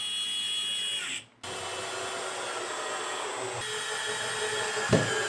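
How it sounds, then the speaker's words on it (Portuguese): A power drill drives a screw into a kitchen cabinet shelf with a steady whirring whine. The whine cuts out briefly near the start, then runs on evenly, with a small knock near the end. "vou pontear o parafuso e vou fazer a fixação dele"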